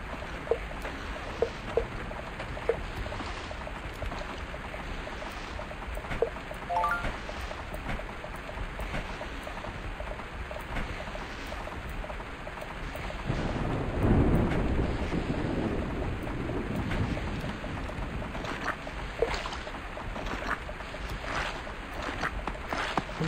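Rain and thunder in the video game Survivalcraft 2: a steady rain hiss runs throughout, with a deep rolling thunder swell building loudly in the middle before easing back into the rain.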